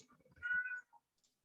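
A house cat trying to get outside lets out a single drawn-out meow, fairly faint and alone, followed by quiet.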